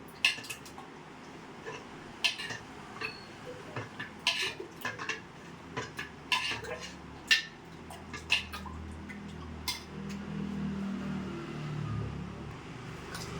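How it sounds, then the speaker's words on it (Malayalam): Homemade fabric conditioner being stirred with colour in a measuring container, giving repeated light clinks and taps of a utensil against the vessel, fairly quiet and close, with no voices. "ഇതിലേക്ക് ഈ അളവ് പാത്രത്തിലേക്ക് ഞാൻ കുറച്ച് മിശ്രിതം എടുത്ത് കളറ് മിക്സ് ചെയ്യാൻ പോവാണേ"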